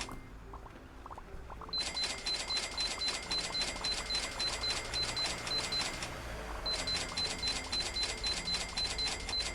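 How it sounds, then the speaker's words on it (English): A computer mouse is spam-clicked in rapid succession: a fast, even train of crisp clicks runs for several seconds, pauses briefly, then resumes at the same brisk pace. "Just spam clicking over here"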